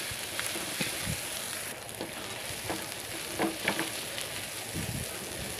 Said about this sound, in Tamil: இதோட ஒரு 2 மீடியம் சைஸ் ஆனியன் கட் பண்ணி இதில் சேர்த்து அதையும் நல்லா லைட்டாக உப்பு சேர்த்து வதக்கிக்கலாம்